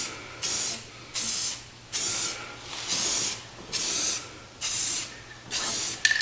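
Spray paint goes onto a Mossberg Maverick 88 shotgun in light passes: about seven short, even hissing bursts with brief pauses between them, close and alone.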